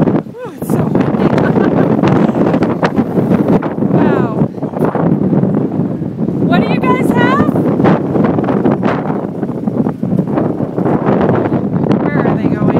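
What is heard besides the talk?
strong wind blowing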